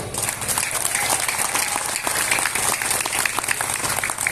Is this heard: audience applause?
yes